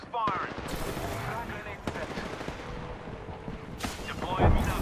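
Knuckle cluster weapon firing in a video game: a burst of sharp, rapid gunfire-like cracks and booms with a heavier thud near the end, close and fairly loud over game noise, with voices present.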